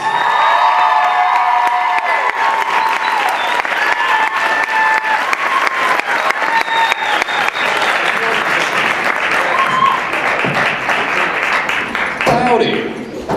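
A crowd applauding and cheering for a band at the closing of Midwest Media Expo 2014, with loud sustained clapping, whoops and shouted voices running throughout before it tapers off at the end.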